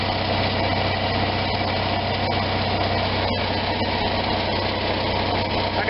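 An RV engine with a Chinese single-barrel carburetor idles steadily while warming up, a loud, continuous low rumble with constant vibration and no break, no voices over it.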